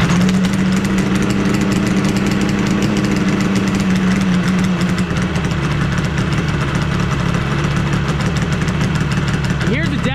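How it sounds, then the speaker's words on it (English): A 700cc two-stroke go-kart engine idles loud and close, a constant dense rattling buzz with a steady low hum that shifts slightly partway through. "I haven't ran it in a long time, so let's get this thing fired up. It is loud too"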